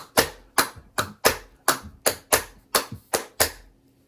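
Eleven sharp hand claps fall in a steady, slightly uneven pattern, layering parts of a Khaliji rhythm. They are close, crisp and alone, each with a short decay and no voices.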